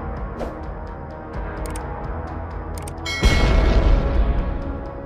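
Explosions from Ukrainian FPV drone strikes on a battlefield: a few sharp distant booms early on, then a loud, heavy blast with rumbling low-end debris that lingers for a couple of seconds.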